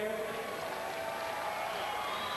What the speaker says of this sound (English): applause for Henry Matamoros right there.